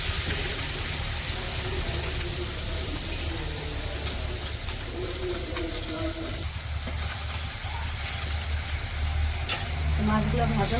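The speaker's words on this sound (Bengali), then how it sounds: "মাছগুলো ভাজা হয়ে গেছে" Fish sizzles steadily in hot oil in a wok for a village-style fish curry, a dense, close frying hiss that continues throughout with faint stirring.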